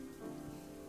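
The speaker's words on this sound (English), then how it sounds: "We stand in the rain" Steady rain patters down in a brief, unbroken wash of sound within a video game scene.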